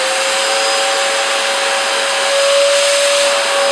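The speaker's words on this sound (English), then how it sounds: "I've got here my workshop vacuum, and I'll turn it on." A workshop vacuum runs steadily and loudly throughout, a constant broadband roar with a steady whine, no pauses.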